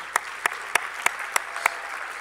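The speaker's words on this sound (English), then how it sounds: "Big round of applause for all their support." Audience applause at a USA Gymnastics Hall of Fame induction ceremony, with six sharp, evenly spaced loud claps standing out over a softer background of scattered clapping in the hall.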